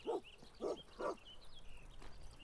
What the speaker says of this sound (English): Oh, the dog. No!